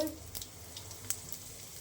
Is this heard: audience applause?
no